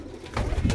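Pigeons cooing up close, a short, soft throaty coo rising and rolling over less than a second, with no talking over it.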